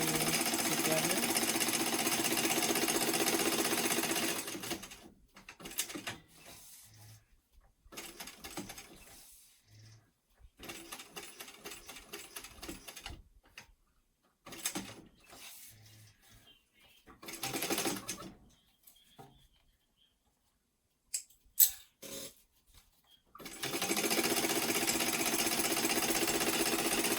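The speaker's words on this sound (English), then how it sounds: "I'm just going to baste the lining and the exterior together." A sewing machine basting the lining and exterior of a weekender travel bag together, running in rapid mechanical bursts of stitching separated by pauses and quiet handling, starting and ending with longer steady runs.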